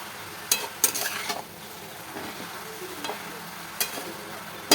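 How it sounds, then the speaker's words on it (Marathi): Grated carrot stir-fried in ghee for halwa, a soft steady sizzle with several sharp scraping clicks of a spatula against the pan, fairly close and alone without voices. "आता मी हा व्यवस्थित असा परतून घेते तुपामध्ये."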